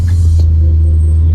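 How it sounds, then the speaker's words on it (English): A Dinan Stage 2 BMW E39 M5 V8 with loud exhaust and about 340,000 miles idles with a deep, steady rumble, close and loud, with a brief blip near the start. "you listen to it, you hear that V8 roaring"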